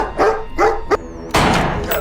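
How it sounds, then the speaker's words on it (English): A dog barks in a film scene: a few sharp, evenly spaced barks followed by a louder, longer burst, heard through the movie's soundtrack. "barking in the background is stressing me out even more"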